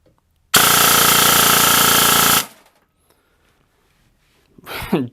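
A VFC MP7 airsoft gun with a brushless motor on an 11.1 V LiPo fires one loud full-auto burst of about two seconds at nearly 30 rounds per second, a close, dense rattle followed by quiet and a brief voice.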